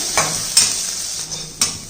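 Onions sizzle in a hot pan while a utensil stirs and scrapes against the metal a few times.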